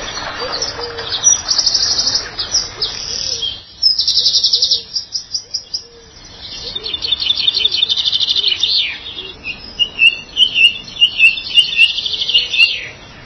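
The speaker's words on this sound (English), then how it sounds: "the sheer amount of bird song is just absolutely phenomenal" Garden birds sing in bright, repeated chirps and trilling phrases, several overlapping close by in a quiet setting at Highgrove, with brief pauses between bursts.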